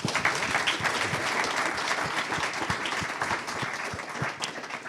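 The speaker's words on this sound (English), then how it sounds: "A round of applause for Vanita Gupta." Audience applause at a panel discussion on redistricting, a crowd clapping fairly quietly, many hands in quick irregular claps sustained evenly across the stretch with no speech.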